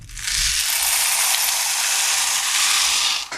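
Stainless steel tumbling media pours into a tub in a dense, continuous metallic rattle and clatter, loud and close, lasting about three seconds and stopping abruptly.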